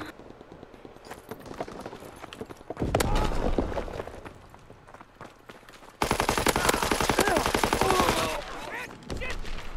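STG-44 assault rifle firing in Call of Duty WWII, several sustained bursts of rapid automatic fire with short gaps, over background game noise and a voice talking.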